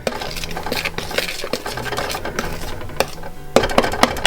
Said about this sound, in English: And now just stir that in